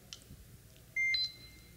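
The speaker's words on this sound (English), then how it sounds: "wait for the beep, then move the laser" A laser templating system gives a single short electronic beep as a point is registered, clear against a quiet room background.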